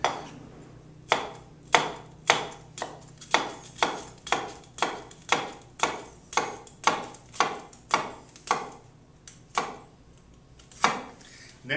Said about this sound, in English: make some nice vertical slices across the onion